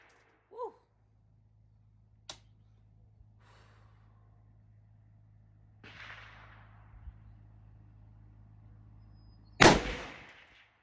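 A single sharp, loud report from a Stag Arms AR-10 rifle in .308 rings out near the end during an Alaska brown bear hunt, following a long quiet stretch with a few faint small noises.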